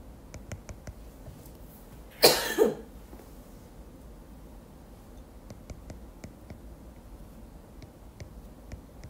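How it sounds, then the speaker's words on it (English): A person with a sore throat gives one loud, close cough with a second rasping burst right after, a short double cough breaking an otherwise quiet room with faint ticking. "I apologize if I cough in your ears."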